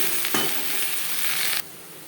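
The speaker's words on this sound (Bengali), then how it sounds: "হালকা করে পাট ভাজা হয়ে গেছে" Jute leaves (pat shak) frying lightly in a small amount of refined oil, a steady broadband sizzle with soft stirring that stops abruptly near the end, leaving quieter hiss.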